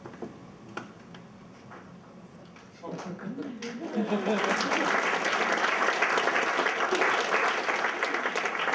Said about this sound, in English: If I had known that clapping was the convention